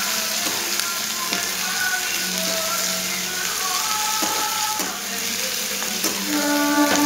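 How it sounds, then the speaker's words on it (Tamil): Tomatoes sautéing in oil for an idli and dosa chutney, a steady close sizzle and crackle running throughout, with a few light utensil taps against the pan. "தக்காளியும் கொஞ்சம் நேரம் எண்ணெயில் வதக்கலாம்"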